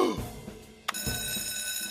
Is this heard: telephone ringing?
yes